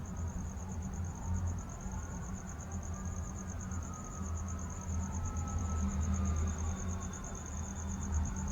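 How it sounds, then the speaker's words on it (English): Crickets and other insects call through the desert night, a steady high-pitched pulsing chirp running unbroken over a low rumble of distant traffic, with no voices. "hearing the rustling of sparse undergrowth, a swarm with crickets and critters signaling"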